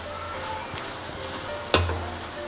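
Jujube berry pickle being mixed in a pan, giving a steady sizzling, stirring hiss with a sharp metallic clank of spoon against pan near the end, close and moderately loud, with no talking.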